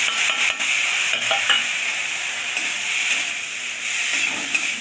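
Chopped banana flower fries with egg in a pan, giving a steady close sizzle with a scrape and stir now and then, and no voices.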